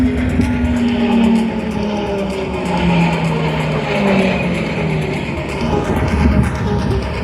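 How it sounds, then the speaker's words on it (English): Propeller aircraft of the RAAF Roulettes roar low overhead at an air show, a loud continuous engine drone with shifting pitch as the planes cross paths, accompanied by constant open-air rumble. "you can see the two aircraft there crossing path low level with a lot of closure"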